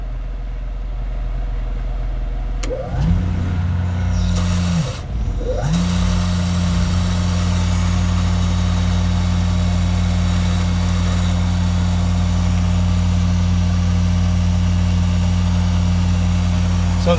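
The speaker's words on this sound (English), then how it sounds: "This is our boost pump here." A SeaWater Pro watermaker's 110 volt boost pump on a boat, starting with a brief surge and then running as a loud steady motor drone and hum under a constant background whine.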